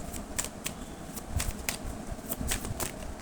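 Tarot cards riffled and shuffled by hand at close range, a quick run of crisp flicking bursts and soft slaps, fairly quiet and without talk.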